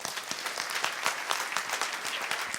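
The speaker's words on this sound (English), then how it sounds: "A round of applause." An audience claps in a round of applause at a live talk, a dense, bright patter of many hands that carries steadily through the whole moment without a break.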